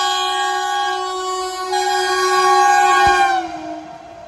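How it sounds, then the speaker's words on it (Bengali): A loud, sustained Vande Bharat express train horn blares with rich harmonic tones, then drops in pitch and fades as the train rushes past close by at a station. "এখন পাস হচ্ছে আমার পাশ দিয়ে বন্ধে ভারত"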